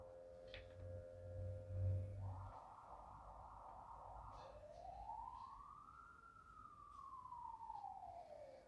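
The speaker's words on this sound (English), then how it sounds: "let's let the siren go off and then we'll continue with our conversation" An emergency siren wails outside, starting with a rapid warbling yelp and then sweeping into a long rising and falling tone, moderately loud and distant-sounding, with no talking over it.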